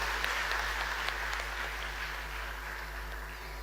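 Audience applause welcoming a guest at a Ladli Laxmi celebration event for girls, a steady wash of many people clapping for nearly four seconds over a low hum, even and sustained without voices.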